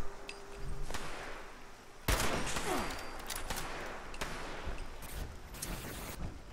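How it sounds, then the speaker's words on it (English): Gunfire in the Fallout 76 video game crackles in scattered sharp bursts, several loud distinct shots spaced irregularly over a faint background, without speech. "Who is shooting me?"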